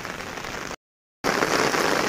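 Heavy rain falls during a river flood, a dense hiss of water broken by a brief total dropout before the steady downpour resumes.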